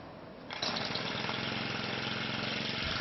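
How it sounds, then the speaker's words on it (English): A Briggs & Stratton string trimmer's small two-stroke engine catches on the starter pull and settles into a steady, loud, close-up buzzing idle with no voices. "Squeeze the throttle trigger and hold it as you pull the starter cord to start the engine."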